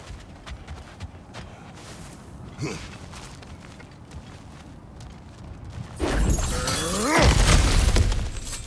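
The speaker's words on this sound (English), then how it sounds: "Ah, back to smashing through things for fun and profit." Cracked ground being smashed through in God of War Ragnarök: light footsteps and a grunt give way to a loud crashing burst of breaking rock and debris that rumbles on for several seconds.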